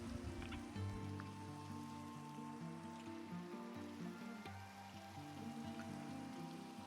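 Rain falls in Minecraft, a soft steady patter that is faint beneath the game's sustained background music.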